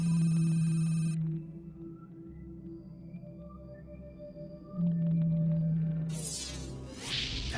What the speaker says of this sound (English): These are blue whales.